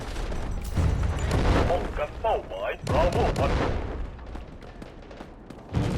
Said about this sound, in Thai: ส่งลูกระเบิดไปก่อนแล้วกัน